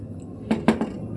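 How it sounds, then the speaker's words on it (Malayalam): A pressure cooker lid being put on and closed over a dish of irachichoru, a few quick close metallic clanks and clicks in a quiet kitchen. "കുക്കറിൻ്റെ അടപ്പിട്ടിട്ട് അടച്ച് വെക്കാം കേട്ടോ."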